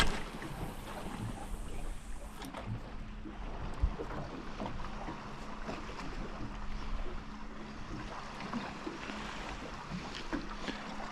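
A small fishing boat cruises slowly on its electric motor along a reef edge offshore, giving a steady low hum with water slapping and wind buffeting the microphone throughout, with no voices.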